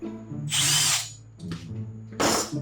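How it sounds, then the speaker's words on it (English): A drill press whines through three short bursts of boring into metal pipe, the bit biting with a harsh hiss and motor hum between cuts. "just in case the drill press was the problem"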